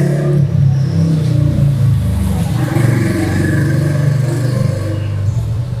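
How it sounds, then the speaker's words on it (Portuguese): Steady road traffic close by, engines humming and revving as cars and motorbikes pass one after another. "tá esse barulho de carro, moto passando"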